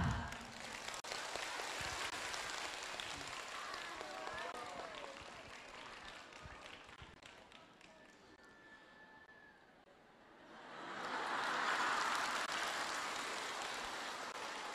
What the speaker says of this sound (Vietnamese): Cho Kim Tho thêm tràng pháo tay thiệt lớn nha.